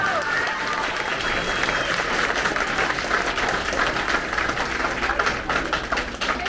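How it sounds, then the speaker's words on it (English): An audience at a sixth grade elementary school promotion ceremony gives loud, sustained applause, with dense clapping and crowd noise mixed with scattered voices throughout. "A big round of applause for all our 6th grade students"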